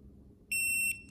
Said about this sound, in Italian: Ecco qui, questo è il terzo bip